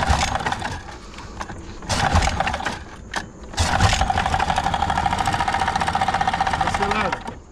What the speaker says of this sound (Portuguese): Mas como é que ele vai saber se ele não escutou o barulho do motor?